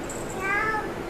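A two-year-old girl imitates a cat's meow, a single short rising-falling vocal mew lasting under a second, close and clear against a quiet room.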